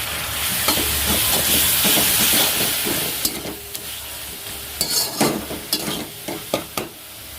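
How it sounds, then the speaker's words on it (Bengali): Masala with a little water sautéing in a pan, a loud continuous sizzle and hiss with repeated scraping stirs that become sharper, separate strokes in the second half. "ভালো করে কষি নেব এখানে সামান্য জল আছে যাতে মশলাটা পুড়ে না যায়"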